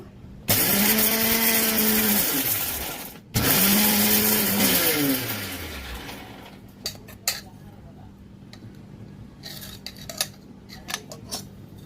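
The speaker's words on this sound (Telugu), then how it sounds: "దీనిలో కొద్దిగా వెల్లుల్లి రెబ్బలు వేసుకొని గ్రైండ్ చేసి పెట్టేసుకోవాలి." A mixer grinder grinding garlic cloves into paste in a kitchen jar, two loud whirring bursts with a short pause between them, then the motor winds down, followed by scattered clinks and rattles.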